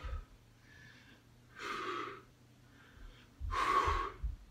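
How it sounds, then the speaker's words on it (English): Forceful exhaling during an ab exercise as a person sits up and empties the lungs, two loud breathy blows about two seconds apart with a softer breath between them, close to the mic and without speech. "you can hear me emptying the lungs, exhaling"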